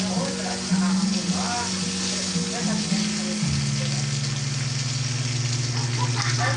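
Fish fries in cooking oil with a steady, close hiss and crackle, while a humming engine-like drone runs underneath and a person talks over it.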